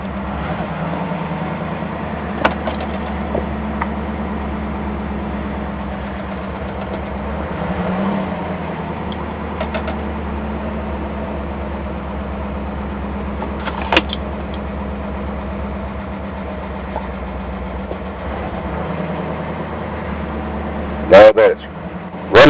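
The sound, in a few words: 1965 Mercury car engine idling after cold start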